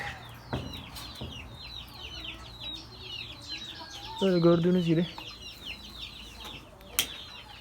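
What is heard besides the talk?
chickens clucking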